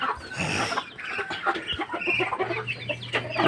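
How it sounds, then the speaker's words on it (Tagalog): Chickens in a Filipino backyard flock cluck and squawk close by in a busy, overlapping chatter, with a low steady hum underneath toward the end. "Ang lalaki naman nila mga manok."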